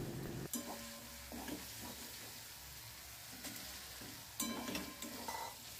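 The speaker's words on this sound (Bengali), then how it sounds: "হালকাভাবে নাড়াচাড়া করে" Fried paneer being stirred gently through a masala of Kashmiri chilli powder in a pan, a steady frying sizzle broken by several soft scraping stirs.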